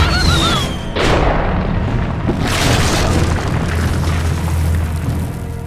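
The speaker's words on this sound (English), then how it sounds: "Oh, that's a flare gun." A flare gun fired in the Wild Grinders video game lets out a loud booming burst followed by a second whooshing blast, after a brief tonal game chime at the start, with a rumbling tail afterward.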